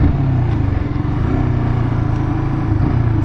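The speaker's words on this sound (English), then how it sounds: "and that's the sound of the engine." A Yamaha R15 motorcycle engine fitted with a K&N air filter runs at a steady, low, smooth throb, close and constant throughout, with no talking.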